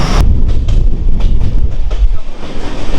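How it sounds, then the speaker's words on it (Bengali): A train rumbles steadily along a winding rail line in Assam, with a loud low roar and faint rhythmic clacking throughout. "বেশ আঁকাবাঁকা রেল পথ ধরে আমাদের ট্রেন খুব জোরে দৌড়চ্ছে না"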